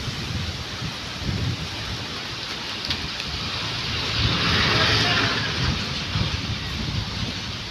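Heavy storm rain during a pre-monsoon Kalbaishakhi squall hisses densely and continuously, a broad wash that swells slightly midway, with gusty wind beneath it.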